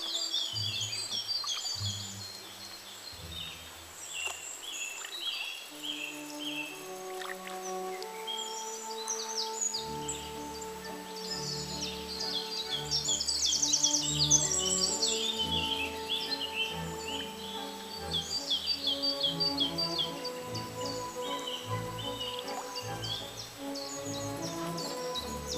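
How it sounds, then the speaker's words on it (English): A lively chorus of birdsong by tidal water, with many overlapping chirps, whistles and trills continuing steadily throughout, layered over low ambient rumble. "Listen to the birds."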